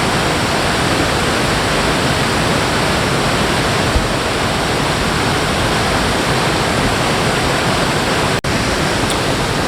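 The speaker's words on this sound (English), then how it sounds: "I am in Copper Falls State Park, and that is Brownstone Falls" Brownstone Falls, a waterfall in Copper Falls State Park, roars as a steady, loud, broadband rush of falling water, unbroken throughout with no voices.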